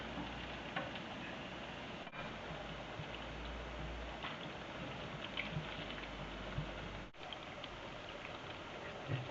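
Pumpkin fritters (bunyols) frying in oil that is not very hot, giving a steady, soft crackling sizzle that runs continuously at moderate level, with no talking.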